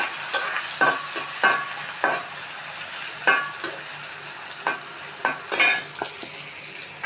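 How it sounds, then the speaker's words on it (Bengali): Chopped onions stirred in hot oil left over from frying fish, with steady sizzling and a run of sharp spoon-against-pan scrapes repeating every second or so, close and fairly loud. "মাছ ভাজি করার পরে যে তেলটা রয়েছে এটা আমি দিয়ে দিব। দিয়ে দিব পেঁয়াজ কুচিয়ে রেখেছিলাম, ওগুলো দিয়ে আমি এখন নাড়াচাড়া দিয়ে নিব।"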